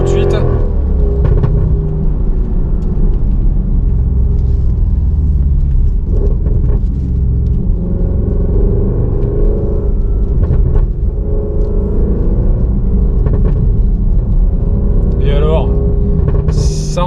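An Audi RS6 C7 tuned to 730 hp rumbles steadily while driving, a dense, loud low drone with a few brief sharp cracks that could be exhaust pops.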